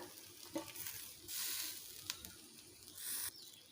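Green chillies sizzling in a pot while cooking dalia khichuri, a faint hissing crackle rising in short bursts with quiet stirring scrapes between.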